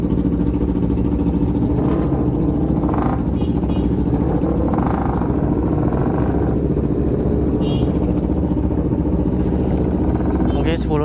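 A group of around ten to twenty motorcycles riding together at night on a Makassar street, engines droning steadily and close throughout, with someone talking over the steady rumble.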